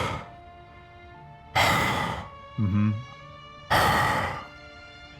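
A person imitates heavy breathing through a hockey mask: two loud, harsh, breathy exhalations a couple of seconds apart, with a brief murmured sound in between.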